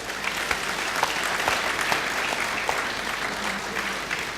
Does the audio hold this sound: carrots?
no